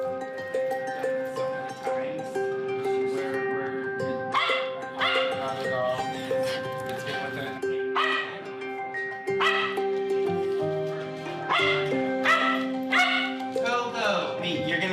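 A stressed, traumatised female dog gives repeated yips, barks and whimpers, close by and recurring throughout under a person's ongoing talk and background tones.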